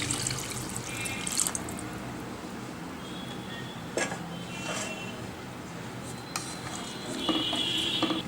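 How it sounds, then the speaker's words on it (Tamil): Coconut milk poured into seeraga samba rice in a pressure cooker, a steady liquid splashing stream with a few brief clinks and louder gushes, close and alone. "அந்த 1 கிளாஸ்க்கு 2 கிளாஸ் தேங்காய் பால் இப்போ ஆட் பண்ணுறேன்."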